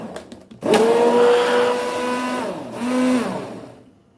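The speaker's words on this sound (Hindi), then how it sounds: "मेरे पास ये हैंड ब्लेंडर है, मैं इसके साथ करती हूँ।" A hand blender whirs loudly as it mixes cold coffee in a jug, starting abruptly and holding a strong motor whine that dips and rises again before cutting off.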